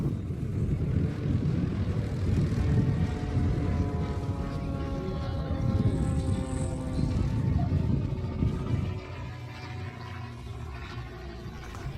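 An aerobatic airplane performing a Humpty spin at an airshow drones loudly, its engine note sustained with rising and shifting harmonic tones before easing off somewhat toward the end.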